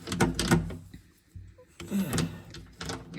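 Ratcheting 10 mm socket loosening bolts on a plate of a 2022 Honda Pioneer 700 side-by-side, heard as close, repeated mechanical clicking bursts with short pauses between.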